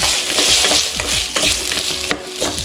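Sliced big onions sautéing in a pan for a Kerala-style crab fry, with a steady hiss of frying and a repeated rhythmic scrape of a spoon stirring against the pan.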